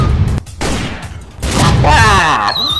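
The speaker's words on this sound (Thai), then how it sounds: "ไอรอนแมนโดนปืนเล็กกระจิ๋วเดียวยิงล้มได้ยังไง" Gunfire in a Skibidi Toilet animation: a few loud sharp shots and booms mixed with other cartoon effects and rising whistling tones near the end, with voices partly over them.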